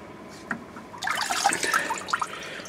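Tap water runs into a sink as rusty lathe chuck parts from a Craftsman 4-jaw chuck are rinsed, a close splashing trickle that starts abruptly after a short click and continues unevenly.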